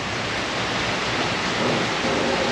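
Heavy rain pours steadily outdoors near a bench of orchids, a dense, continuous hiss at an even, loud level with no voices.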